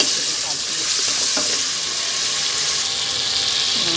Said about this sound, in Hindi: ये मैंने लहसुन रखा हुआ है, ये जो ऊपर से मैं तड़का लगाऊंगी